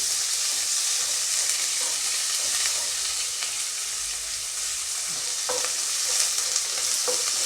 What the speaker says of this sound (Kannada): ಈರುಳ್ಳಿ ಹಾಕ್ತಾಯಿದ್ದೀನಿ ಈರುಳ್ಳಿ ಸ್ವಲ್ಪ ಫ್ರೈ ಮಾಡ್ಕೊಂಬಿಡಿ